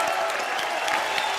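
Studio audience applauding on a comedy television show in India, dense clapping that stays steady and fairly loud for the whole moment, with faint crowd murmur mixed in.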